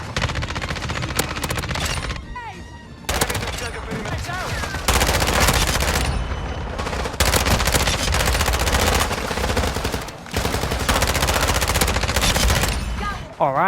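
Rapid automatic fire from an ISO SMG in Call of Duty MW2, loud and close, in sustained bursts separated by a few short pauses.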